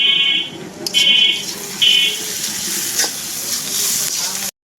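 Onion and chilli frying in a wok with ground spice paste added, a continuous close sizzle broken by a few short beeping tones.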